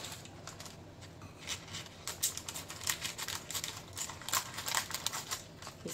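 Scissors snip around a sheet of thin paper, giving a series of close, crisp cutting clicks in irregular bursts over a quiet background.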